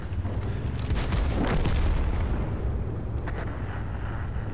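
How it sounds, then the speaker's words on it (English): Heavy booms and artillery-style blasts from World of Tanks battle action, a loud dense rumble of explosions going off continuously across the whole stretch, with no talking over it. "Bombs going off all around."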